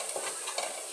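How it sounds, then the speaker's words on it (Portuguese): Beef sautéing with garlic in a pan, a steady close sizzle broken by a few soft stirring scrapes, with no voices over it. "Vou dar uma refogadazinha na carne antes de botar os outros ingredientes"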